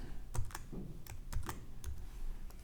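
A few scattered keystrokes on a computer keyboard, crisp nearby clicks with irregular gaps, soft and alone.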